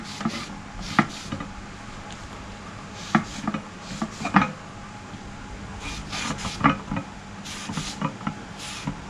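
Coconut oil being rubbed by hand onto a mould, faint scraping and tapping strokes in an irregular rhythm, quiet and close, with no talking.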